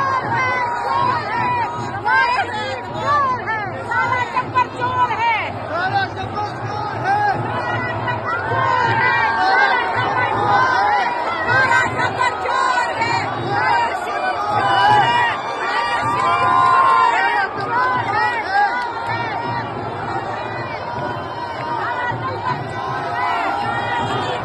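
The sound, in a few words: crowd chanting slogans at a rally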